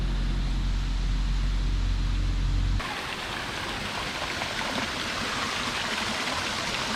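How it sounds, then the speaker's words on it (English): Cold mountain river water flows in a steady, full rushing wash, heard close and continuous after an abrupt shift from a lower rumble. "It's mountain water straight from the river."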